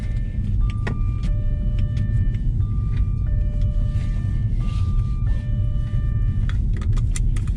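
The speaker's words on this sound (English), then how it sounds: "this is the first drive in the Jaguar with the new air suspension from Maxspeedingrods" A Jaguar riding on newly fitted Maxspeedingrods air suspension drives along with a steady, loud low rumble of engine and road noise heard from inside the cabin, plus a few faint tonal beeps and rattles.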